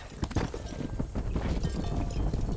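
Horse hooves clip-clop in a quick, steady trot in the video game Red Dead Redemption, close and continuous over a low rumble of game ambience.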